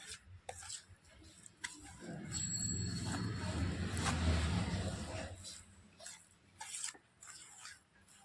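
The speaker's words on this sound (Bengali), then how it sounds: "এবার নাড়াচাড়া করে সুন্দর করে মিশিয়ে নেব।" Orange juice drink mixture of real orange juice and powder being stirred and mixed in a bowl, a steady rubbing, scraping swirl that swells for a few seconds in the middle, with clicks of the utensil before and after.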